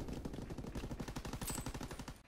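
Rapid automatic gunfire in a World War II video game rattles without pause, with dense overlapping shots forming a continuous burst that sounds fairly quiet and distant, with no voices.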